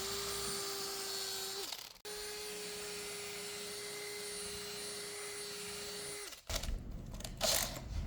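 A drill fitted with a diamond chamfer bit whines at a steady pitch while cutting an indentation into wood. It spins down briefly, runs again, then stops with a few scraping and handling clunks.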